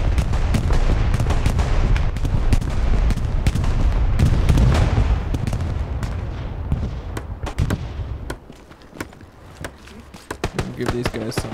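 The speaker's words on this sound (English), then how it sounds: "Friendly bombing run." A friendly bombing run in Hell Let Loose brings a dense barrage of loud booming blasts and sharp cracks that thin into scattered, more distant explosions, with a voice talking over it.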